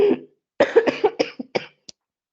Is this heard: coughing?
yes